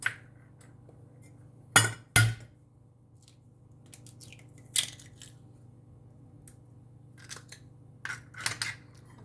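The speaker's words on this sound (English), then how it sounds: "So I'm gonna crack my eggs in this bowl." Three eggs are cracked into a bowl in a kitchen: a pair of sharp taps near the start, then softer clinks and small shell cracks, all close and with no talking.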